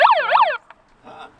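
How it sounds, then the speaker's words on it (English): Siren on a van blares a short, loud, close wailing warble and then cuts off, followed by faint murmuring voices. "Have a siren on it?"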